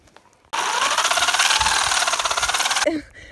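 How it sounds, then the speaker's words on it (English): A power drill grinding and straining as it breaks down, for about two and a half seconds, loud and steady with a rough buzzing texture, starting abruptly and cutting off, with a brief voice at the end. "The drill broke."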